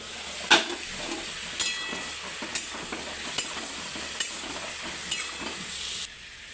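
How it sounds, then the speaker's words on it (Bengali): Sliced ridge gourd fries in a pan with a soft, even sizzle, punctuated by regular sharp scrapes of a spatula about once a second as it is stirred, ending abruptly. "ঝিঙেটা কিন্তু আমি এখন ভালো করে নাড়াচাড়া করে ভাজবো।"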